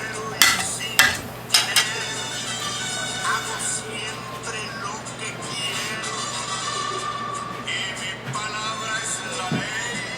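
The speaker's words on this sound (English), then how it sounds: "Stir them up a little bit." A spoon knocks and scrapes against a metal pot of beans several times early on, followed by softer stirring clinks over a steady kitchen hum.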